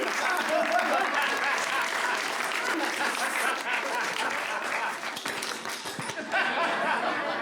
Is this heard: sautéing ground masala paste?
no